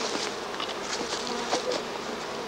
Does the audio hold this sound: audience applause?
no